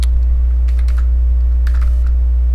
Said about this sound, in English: we have to type delay milliseconds